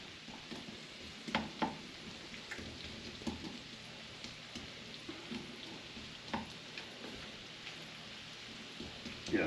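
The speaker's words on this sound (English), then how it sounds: "Flip our potatoes, see how they're cooking nice, sizzling really nice and well." Home fries potatoes sizzling in a frying pan for a breakfast casserole, a faint, steady crackle and hiss with occasional louder pops and scraping as they are flipped, no voices.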